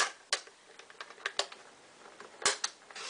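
Cardstock being cut at the 4.25 mark for card making, heard as a series of short, crisp ticks and snaps spaced irregularly, close and fairly quiet, with no voices.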